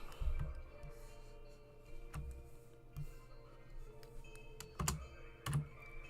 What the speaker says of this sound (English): I'm just trying to fix my keyboard